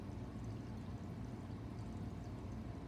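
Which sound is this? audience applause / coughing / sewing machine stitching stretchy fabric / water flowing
water flowing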